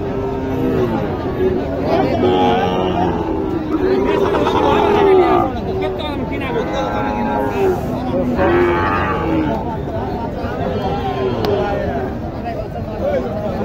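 Cattle low repeatedly at a crowded rural cattle market in Naogaon, Bangladesh, where Sahiwal heifers are sold; loud moos rise several times over steady crowd chatter and nearby bargaining voices.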